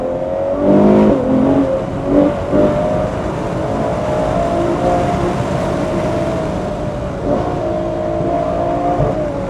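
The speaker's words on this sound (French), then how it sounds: "on va faire un petit essai routier de la Ferrari 812" A Ferrari 812 engine revving and accelerating on a road drive, a loud, steady roar with rising and shifting pitch, heard from close by with no talking.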